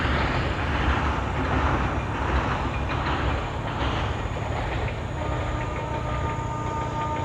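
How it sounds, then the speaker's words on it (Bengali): A train runs past a tea garden after crossing a river, its steady loud rumble and rattle of wagons rolling on for several seconds with no talk. "ট্রেনটা পুরো আবার নদী ক্রস করে এখন চা বাগানের পাশ দিয়ে যাচ্ছে"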